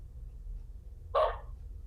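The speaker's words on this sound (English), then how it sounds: "Oh, somebody's got a dog." A dog barks once in the background, a single short bark against a low steady hum in a quiet indoor setting.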